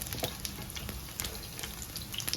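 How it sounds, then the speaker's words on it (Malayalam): Chicken for butter garlic chicken fries in a pan over a medium flame, giving a close, continuous sizzle dotted with small crackling pops and no talk. "എപ്പോഴും ഒരു ഒരു മീഡിയം ഫ്ലെയിമിലിട്ടിട്ട് വേണം ഈ ചിക്കൻ ഫ്രൈ ചെയ്തെടുക്കാനായിട്ട്"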